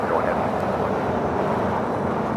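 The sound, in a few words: airliner rolling for takeoff on runway 25 right at LAX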